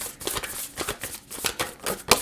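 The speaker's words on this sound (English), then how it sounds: "I don't like shuffling this deck" An oracle card deck is shuffled by hand in quick, repeated riffling bursts of crisp card flutter, close and fairly loud, ending in a sharp snap.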